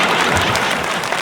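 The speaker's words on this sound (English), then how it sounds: "You can clap. Clap louder." Steady, dense applause from a stand-up comedy audience fills the room, continuous and loud for its whole length with no talk over it.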